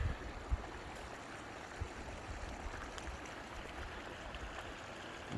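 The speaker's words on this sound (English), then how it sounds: "And there's Horse Creek running down that way" Horse Creek runs past in a steady, broad wash of flowing water with faint gurgles, constant and fairly quiet, with no voices.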